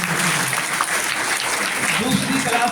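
A steady, dense wash of audience applause fills the hall at an annual school prize distribution at a madrasa, with faint voices murmuring beneath.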